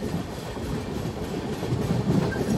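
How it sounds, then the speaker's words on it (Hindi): An oil tanker freight train passes a crossing on an Indian railway with a steady rumble and rhythmic wheel clatter, continuous and moderately close. "ये तो ऑयल वाला टैंकर वाला ट्रेन"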